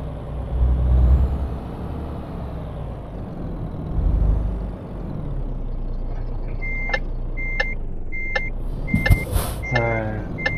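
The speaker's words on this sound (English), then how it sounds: "So you just reverse your truck carefully and slowly to the trailer." A truck in the video game Euro Truck Simulator 2 idles with a low diesel rumble, then its reversing alarm sounds a steady series of evenly spaced beeps as it backs up, with a sharp air brake hiss partway through.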